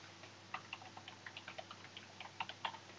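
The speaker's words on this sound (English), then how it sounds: "Type in a new URL." A computer keyboard is tapped to enter a web address, giving quiet, close, irregular clicks in short bursts over a low steady hum.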